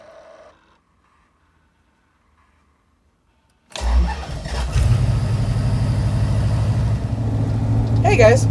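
A Barracuda with MSD Atomic electronic fuel injection cranks and fires after a few seconds of near silence, then settles into a loud, deep, steady idle with a slight rise near the end.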